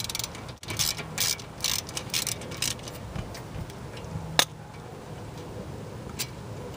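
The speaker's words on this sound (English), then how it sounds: "we're going to go ahead and remove the pin that holds the rotor in place" Mechanical clicking and ratcheting rings out as a pin holding the front brake rotor is worked loose on a BMW E36, steady and close, with one sharper metallic tap.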